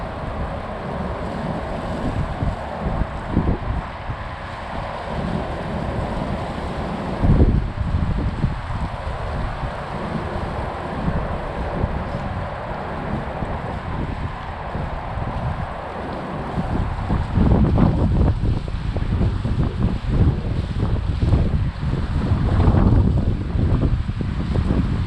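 Strong, steady wind buffets the microphone of a Zino 2 drone flying in very windy conditions, a dense continuous roar that surges louder near the end, with no voices.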